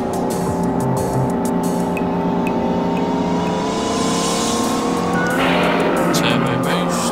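KITT's engine roars in a Knight Rider video game, its pitch climbing steadily before surging louder into a turbo boost, with high racing-engine whine throughout.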